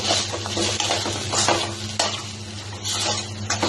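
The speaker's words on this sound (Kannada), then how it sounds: "ಇದು ಅಲ್ಲಿವರೆಗೂ ಕೈ ಆಡ್ತಾನೆ ಇರಿ." A spoon stirs masala gravy in a hot pan, making loud, close scraping and sizzling that continues throughout with no voices.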